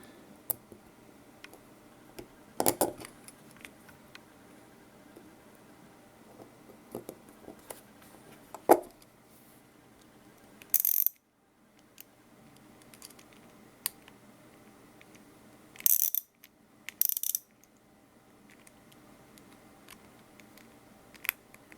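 A 1/4-inch ratchet driving screws back into a knife without thread locker, sparse quiet ratcheting clicks and ticks in short bursts separated by near silence, with a few louder handling knocks.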